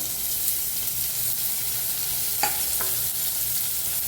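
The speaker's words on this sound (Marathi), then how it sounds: "मिक्स करून ह्याला मी भाजून घेऊया" Tomatoes fry and get stirred in a pan for masala eggplant, a steady close sizzle with a few sharp utensil scrapes and clinks, no talking.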